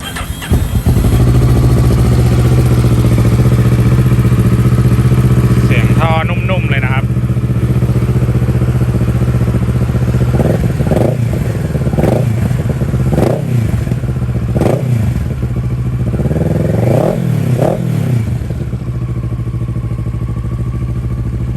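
A 2015 Kawasaki ER6N motorcycle engine idles with a steady throb, then gets several sharp revs that rise and fall in quick bursts, close by.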